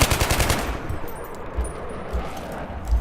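Automatic assault gun fire in Battlefield 3, a rapid burst of loud shots at the start, then scattered heavier single reports and booming impacts over a steady battlefield rumble.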